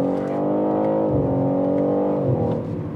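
BMW M3 Competition xDrive accelerating hard, its engine note droning steadily upward, with two quick dips as it shifts gears, heard up close from the cabin.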